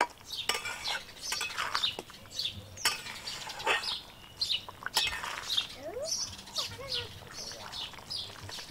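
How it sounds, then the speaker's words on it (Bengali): A spatula stirs egg chilli in a wok, giving intermittent metallic clinks and scrapes at close range, with faint bird chirps in the background. "কড়াতে দেওয়ার পর সব কিছু ভালোভাবে মিশিয়ে নেব।"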